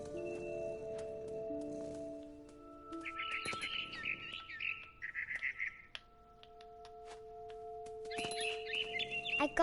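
A mother bird chirps in a game scene inside a big tree, her bright tweeting phrases rising over a soft bed of tonal game music.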